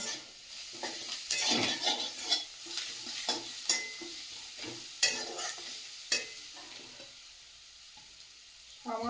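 Spice masala for lote fish curry sizzling and frying in a pan, with intermittent scraping strokes of a spoon stirring it, fairly quiet and close, no voices.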